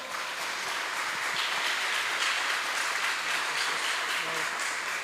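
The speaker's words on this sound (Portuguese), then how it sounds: "Aplauda Jesus, Ele é bom" A church congregation applauds during a worship service, a continuous roomy patter of many hands clapping at an even level, with voices faintly mixed in beneath.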